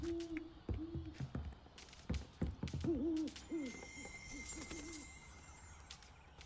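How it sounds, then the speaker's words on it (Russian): Owls hoot in the Owlery of Hogwarts in the Hogwarts Legacy video game, several soft, repeated hoots and coos among clattering ambient noises, with a faint high tone later. "Совы Хогвартса."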